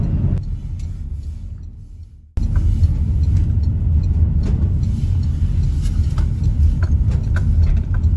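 Interior of a car driving on the road to a supermarket, a steady low engine and road rumble heard close, briefly dropping away before resuming evenly.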